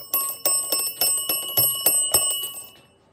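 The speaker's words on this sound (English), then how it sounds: "This is a alarm clock I got. It's a Crossley something." Crosley alarm clock ringing alone, a bright metallic bell struck in repeated bursts, about ten sharp rings in quick succession, loud and close, fading at the end.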